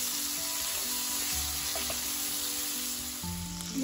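Chorizo sizzles and fries steadily in hot cooking oil, a continuous close crackling hiss with faint stirring clatter and no talk.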